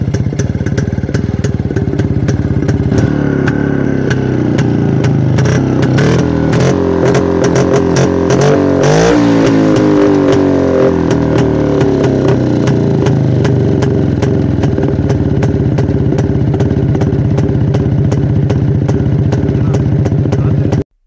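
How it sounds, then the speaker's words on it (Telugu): A 1970s Yezdi two-stroke motorcycle runs with a loud, rapid, popping exhaust beat, rising into a revving burst midway before settling back to a steady close-up idle. "ఇప్పుడు మీకు ఎగ్జాస్ట్ సౌండ్ అయితే వినిపిస్తాను బైక్ది"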